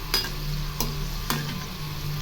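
Okra fries in oil with a steady, soft sizzle, broken by three quick scraping clatters of a spatula stirring the pan.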